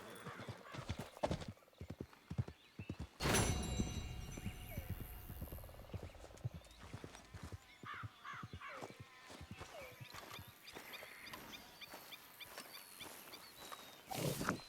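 Horse hooves in Red Dead Redemption 2, a steady clip-clop of a nearby horse with a loud jolt partway through, then quieter hoof steps and brief snorting or whinny sounds alone.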